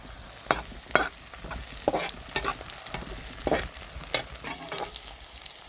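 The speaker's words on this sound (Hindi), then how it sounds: "ज़ीरा को भी हम फ्राई कर लेंगे इन अनियंस के साथ।" Cumin seeds and onions frying in a pan, stirred with sharp spatula scrapes every second or so over a light, steady sizzle, close by.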